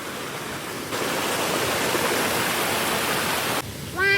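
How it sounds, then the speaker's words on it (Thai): Waterfall along a forest trail near Huai Tueng Thao, a loud, steady rushing roar that swells for a few seconds, drops back, and ends with a brief high chirp. "แถวนี้เจอน้ำตกเยอะมาก น้ำตกตลอดเส้นทางเลย"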